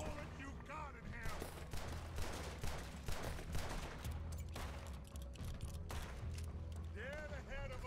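Dense, rapid gunfire from Red Dead Redemption 2 runs throughout as a continuous volley of loud overlapping shots, with voices and other game sounds mixed in.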